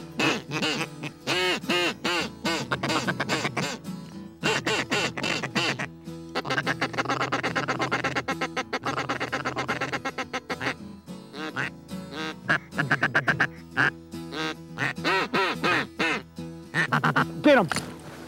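Ducks on a South Dakota slough quack repeatedly in close, loud bursts and runs, with stretches of rapid calling and brief pauses between.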